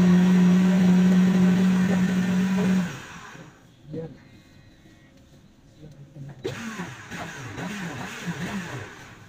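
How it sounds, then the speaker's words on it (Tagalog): Blender whirs loudly with white onion, garlic and celery for about three seconds, then cuts off, followed by quieter kitchen sounds and a voice talking. "i-blend muna natin itong ingredients sa blender"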